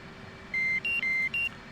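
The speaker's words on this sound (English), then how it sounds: "Start hearing some beeps here." Cockpit warning tones during engine start in a DCS F/A-18 flight sim: four short, clean electronic beeps in quick succession at alternating pitches, clear over a low steady hum.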